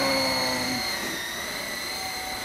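An E-Sky Lama V4 coaxial RC helicopter flying outdoors in a tree-lined backyard, its electric motors giving a steady high whine with tonal harmonics that shift slightly in pitch, close and continuous.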